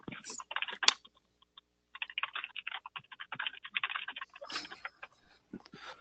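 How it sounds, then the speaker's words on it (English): Quick, dense computer keyboard typing in rapid bursts with brief pauses, close and fairly quiet, with no voices. "I hear Errol typing madly"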